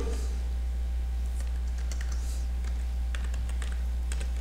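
Keys tapped on a computer keyboard while entering a command into a network device's terminal to enter privileged mode, light irregular clicks over a steady low electrical hum, no voices.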